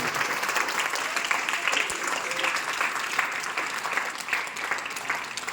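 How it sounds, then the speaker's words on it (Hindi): Steady, dense clapping from a crowd fills the space, sustained and even throughout without a break. "एक बार जोरदार तालियां बजा दें"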